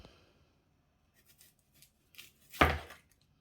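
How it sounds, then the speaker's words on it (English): A knife chopping an onion for Japanese beef curry, a few soft scattered taps followed by one louder, sharper cut against the board, close and quiet. "Gonna cut up the onion."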